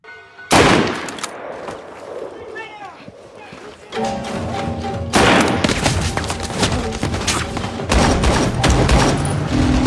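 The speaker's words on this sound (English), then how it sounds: "Missed. Bad shooting, Bob." Gunfire in a film scene, sharp bursts of shots and rapid volleys that grow denser and louder in the second half, mixed with thuds and people talking over them.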